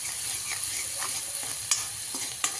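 Green chilies sautéing in a pan for a methi (fenugreek leaf) bhaji, a steady close sizzle with a few soft scrapes and stirring clicks, no talk.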